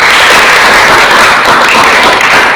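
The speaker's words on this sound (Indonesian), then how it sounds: "Tepuk tangan dulu." A class of vocational engineering students gives a dense, loud burst of continuous applause, a steady wash of many hands clapping together with no talk over it.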